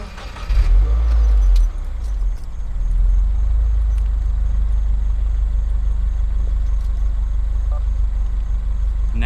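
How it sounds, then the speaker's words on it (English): A 2016 Subaru WRX engine cranks and catches with a loud, close starting burst, then settles into a steady low idle rumble that continues to the end, with no talk. "We're going to start the car."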